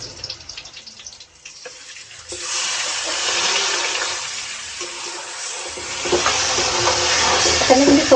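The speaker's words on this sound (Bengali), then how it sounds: "তো ম্যারিনেট করা মাংসটা আমি দিয়ে দিচ্ছি।" Marinated meat with cinnamon, cardamom and spices tipped into hot oil and fried onions for biryani, a quiet start giving way to a loud, sustained sizzle and hiss close by, with stirring clatter and no talk.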